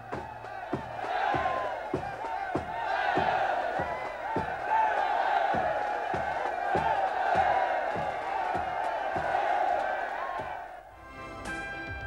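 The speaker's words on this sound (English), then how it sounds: "the whole battalion streamed behind the Land Rover, shouting and cheering" A whole army battalion shouting and cheering as it streams behind a departing Land Rover at a farewell in British Hong Kong, a sustained mass of voices with steady rhythmic thumps running through it.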